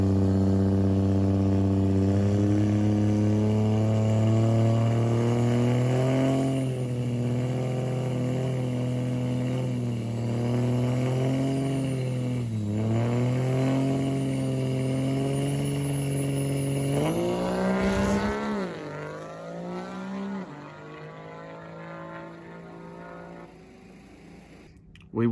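Regular cab Duramax pickup trucks drag racing at Rudy's Truck Jam: a loud, close diesel engine roars steadily with rising and dipping pitch through gear changes, then the roar cuts and fades away near the end.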